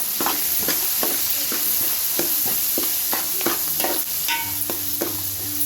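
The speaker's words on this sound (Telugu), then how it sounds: "ఇలా వేగితే సరిపోతుందండి" Chopped onions with turmeric and seasoning seeds fry in a pan under a loud, steady sizzle. Repeated stirring scrapes and clacks come roughly every half second.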